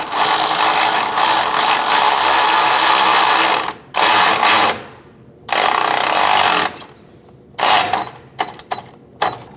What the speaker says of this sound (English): I use my ratchet wrench at first till I can't anymore.